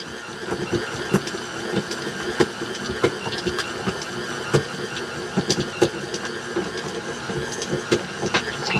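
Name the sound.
stand mixer kneading bread dough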